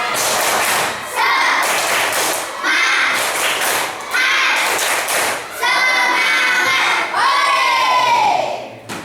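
Classroom of children performing a rhythmic clapping chant together, loud bursts of group clapping and shouted voices in repeated phrases, close and lively with brief pauses between rounds.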